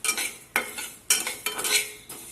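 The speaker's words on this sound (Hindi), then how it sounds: "और इसे हल्का हल्का चलाते रहना है। हमें इस मसाले में तेल नहीं डालना है, इसे सूखा ही भूनना है।" Spoon stirring dry spices and fenugreek seeds roasting without oil in a pan, four or five distinct scraping strokes with a light rattling texture, close and moderately loud with no talking.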